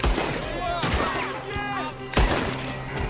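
Several sharp gunshots crack out at irregular intervals in the video game Red Dead Redemption 2, with brief voiced sounds and clatter between the bursts.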